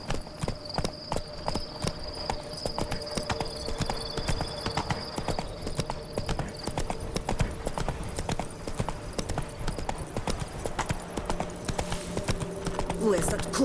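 In the Witcher 3 video game, a horse gallops with rapid, rhythmic clip-clop hoofbeats that hold steady throughout, with a voice speaking over the hooves.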